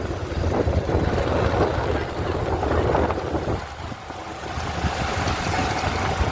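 A motorcycle engine runs steadily on a ride, a continuous loud drone with wind rush and road noise that dips briefly, then returns; no one speaks.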